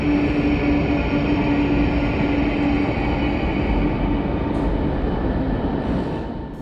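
A loud, steady rumble of a train rolling through Berlin Hauptbahnhof, a modern main station for high-speed and international trains, with a faint whine on top, fading slightly toward the end.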